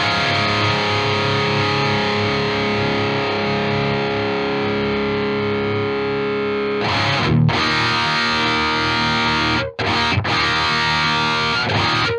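Electric guitar played through a Lichtlaerm Audio Prometheus distortion pedal with controls near noon gives sustained, thick, saturated hard-rock chords. A new strike comes about two-thirds through, followed by brief chopped stops and restarts near the end, with no talking.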